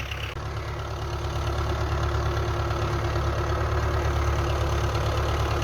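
A heavy diesel engine of a Belarus tractor fitted with a potato planter idles steadily and loudly close by, a constant low throbbing drone with no pauses.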